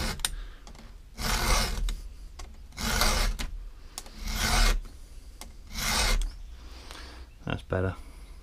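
A hand file sharpens a tooth on a Stihl chainsaw chain in four or five long rasping strokes at a steady rhythm, close and clear, with short pauses and light clicks between strokes.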